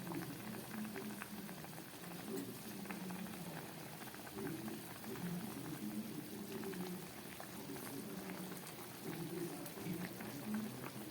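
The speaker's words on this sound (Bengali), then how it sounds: "সবজিগুলো একটু সিদ্ধ হবে তার জন্য জলের পরিমাণটা একটু বেশি দেয়া হলো এবার ফুটে উঠুক" A pot of water with vegetables coming to a boil for a fish curry, steady bubbling and gentle burbling that continues evenly throughout at a moderate level.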